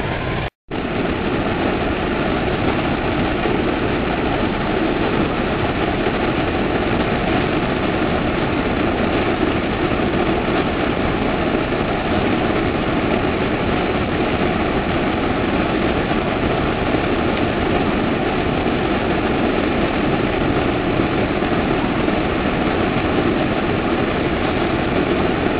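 A fuel-fired furnace heating a phosphorus synthesis roars in a loud, unbroken broadband rush that holds steady for the whole stretch, with only a brief dropout near the start.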